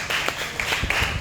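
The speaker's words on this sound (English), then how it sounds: "A round of applause for her again," Brief, moderately loud applause from an audience at a workshop on ending poverty, a dense patter of hand claps lasting about a second.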